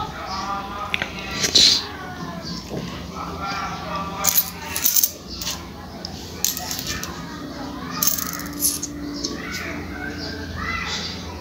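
Old coins, among them a 25-paisa piece stamped with a fish, clink and drop in a few short bright metallic bursts amid chatter and background voices.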